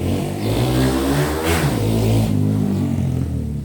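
A motorcycle engine revs up and down, a loud mid-range roar that rises, dips and climbs again, close by and continuous with no talking.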